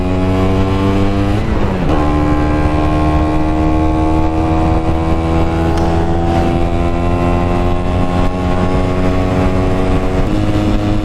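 A Vespa PX scooter fitted with a Pinasco 251 kit climbs a hill, its engine droning loudly and steadily up close, with a brief dip and rise in revs early on and another near the end.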